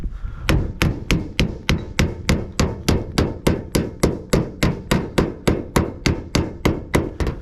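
Hand hammering on standing seam steel roofing, a long run of sharp metallic strikes in a steady, even rhythm at close range, about three blows per second, with no talk.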